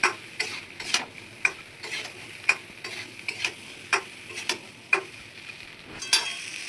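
Raw mango chutney with salt and black salt is stirred in a pan, a regular series of sharp spoon taps and scrapes roughly every half second, close and fairly quiet, with no talking.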